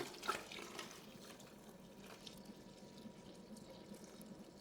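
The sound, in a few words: water being added to a bucket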